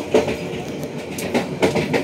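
Airlangga economy-class train running near Arjawinangun station, with close rhythmic clickety-clack of wheels over rail joints and a steady carriage rumble across a short stretch.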